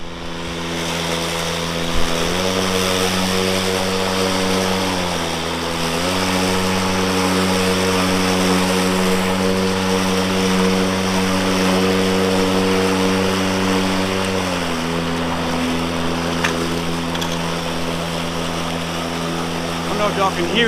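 A DeWalt 20V cordless lawn mower cuts grass with the bagger attached, giving a steady, loud electric motor whir that briefly dips and then rises in pitch several times as it throttles up on its own in thicker grass.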